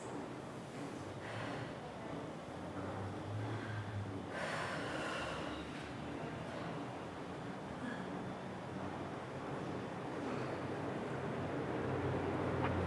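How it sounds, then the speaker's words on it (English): Slow yoga pranayama breathing, with several soft, airy inhales and exhales at an unhurried pace, faint and close against a quiet background. "Take 3 more breaths at your own pace"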